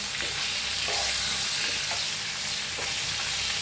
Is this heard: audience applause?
no